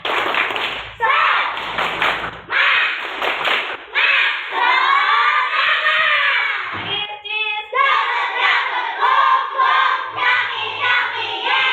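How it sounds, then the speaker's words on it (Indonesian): Schoolchildren in a classroom perform a spirit clap chant, chanting loudly in unison with sharp rhythmic hand claps in repeated bursts, their voices dominating throughout with brief pauses between phrases. "kita tepuk semangat dulu ya. Tepuk semangat."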